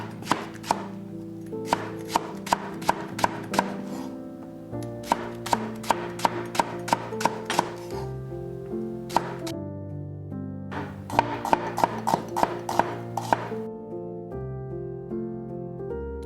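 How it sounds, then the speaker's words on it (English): A knife chopping Chinese napa cabbage into big bite-sized pieces on a cutting board, crisp rhythmic cuts in quick bursts with short pauses, close and clear over soft background music. "just chop them into big bite-sized pieces so that you can enjoy both texture"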